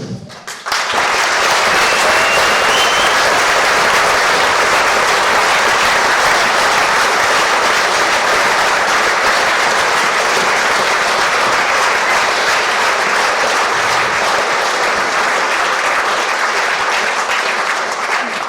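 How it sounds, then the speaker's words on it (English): Loud, sustained applause from a large crowd at a sheep-shearing world record event, steady and dense throughout with no pauses. "So I want a massive round of applause now."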